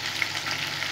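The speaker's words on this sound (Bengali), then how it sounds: "সুন্দর করে ভেজে নেব নুন হলুদ দিয়ে আলুটা" Potatoes frying in a pan with salt and turmeric give a steady, close sizzling hiss throughout, with a few small pops and no talking.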